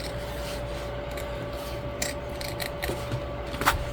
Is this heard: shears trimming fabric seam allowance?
yes